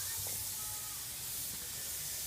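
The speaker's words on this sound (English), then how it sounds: "Josh has got the spray gun ready to go. Go ahead and apply the moisturizer." Steady airy hiss of a spray gun misting moisturizer onto a leather sofa during restoration, a continuous broadband spray that stays even and fairly close throughout, with no voices.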